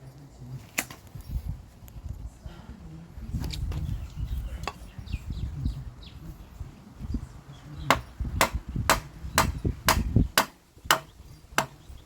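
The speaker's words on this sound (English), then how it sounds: "when I hammer out the crank, the chain doesn't fall" A bicycle crank is hammered out of a road bike, with a series of sharp metallic blows that become a quick run of evenly spaced, loud strikes near the end, over shuffling and handling noise.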